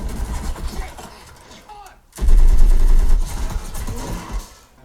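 .50 caliber machine gun fire from the war film Overlord, a heavy, punchy burst with deep rumbling low end that hits loudly after a brief silence and then decays.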